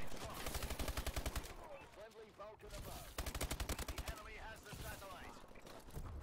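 Automatic gunfire in the Call of Duty Advanced Warfare Uplink mode, with rapid bursts of shots at a steady rhythm, pausing briefly, then firing again in loud, close, sustained volleys.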